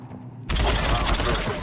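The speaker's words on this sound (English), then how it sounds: "The cannon fire is clearing the way." Cannon fire from Mass Effect 3 erupts after a half-second lull into a loud, sustained roar of heavy blasts that keeps rumbling to the end.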